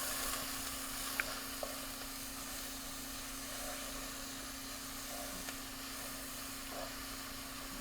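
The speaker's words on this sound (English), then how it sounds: "I'm sauteing the onion now for the meat." Onion sautéing in olive oil in a pan gives a steady, even sizzle throughout, with a constant low hum beneath and a few faint clicks.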